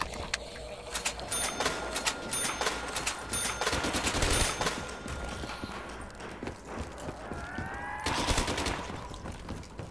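A weapon in Call of Duty Black Ops III fires rapidly, with close, loud, sustained automatic bursts that run nearly continuously and come in waves, punctuated by metallic clatter.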